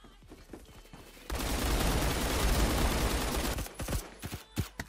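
Sustained RPK light machine gun fusillade in Roblox Phantom Forces, a loud continuous burst of rapid shots after a few scattered single reports, ending with isolated shots.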